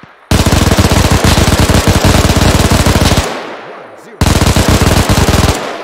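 Rapid automatic airsoft gunfire in a loud, sustained burst that breaks off, trails into a brief lull, then resumes, close to the microphone with no voices.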